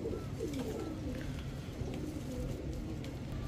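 Indian gangchil kaldam pigeons coo softly under steady background noise, low murmuring calls repeating through the short stretch.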